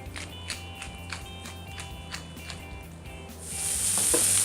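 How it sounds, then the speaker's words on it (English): Pork tenderloin searing in a hot pan with oil, soft steady crackling with a run of evenly spaced light taps, then a louder, brighter hiss swelling up near the end. "It will sear off in a hot pan with some oil for about 2 minutes per side"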